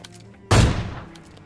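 In PUBG Lite, a single close, loud gunshot finishes off a knocked enemy, a sharp crack with a booming tail that fades over about a second.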